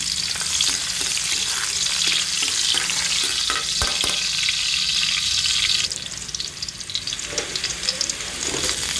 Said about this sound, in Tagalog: gigisa ko na yung bawang